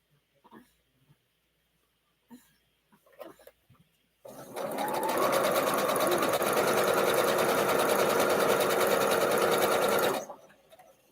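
A sewing machine stitches pieced Arrowhead quilt blocks in one steady, loud, continuous run of about six seconds, after a few soft handling clicks and rustles.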